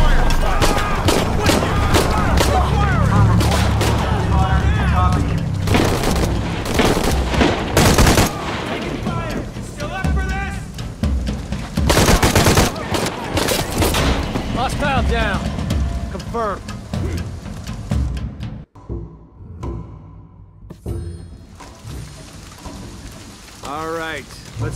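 Gunfire in the video game Shadow of the Tomb Raider: repeated loud bursts and shots sound through heavy rain and rumbling game ambience, with voices talking in places.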